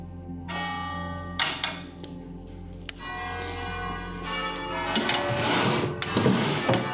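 A church bell rings near an abandoned 19th-century palace in the Swiss Alps, several sustained resonant strikes with long humming decay, growing louder and more clustered toward the end, with no voices.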